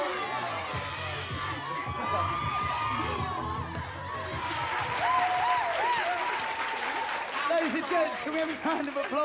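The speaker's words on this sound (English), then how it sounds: "Round of applause for Junaid and Ella, please." A reality-show crowd claps, cheers and whoops loudly, with high excited shouts rising over the dense applause and people talking amid the noise.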